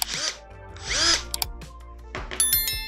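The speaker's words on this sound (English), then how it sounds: "Now we're gonna drill some holes." A Milwaukee M18 compact 1/2-inch drill driver (M18BDD / 2606-20) spins up in two short whirring bursts, followed by clicking and ratcheting of the chuck, heard up close with no talking.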